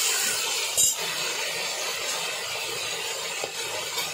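Mixed vegetables sautéing in a pan for bisibelebath, a steady broadband hiss and crackle that holds throughout, with a brief clatter near the start and another soft knock later.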